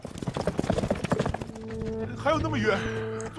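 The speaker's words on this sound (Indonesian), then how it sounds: "klan Kadal memberikan salah satu kuda mereka untuk membantu Yilong dan Chu Hun sampai di kota Phoenix lebih cepat" Rapid clip-clop of horse hooves up close, a quick rhythmic run of knocks that gives way to music and voices from a drama soundtrack.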